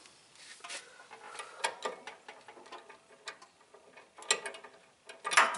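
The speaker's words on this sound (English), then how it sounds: "What a difference a torque wrench makes, boys." A torque wrench ratchets on a tie rod castle nut in short bursts of clicking, quick metallic ticks in uneven runs, close and moderately loud with brief pauses between strokes.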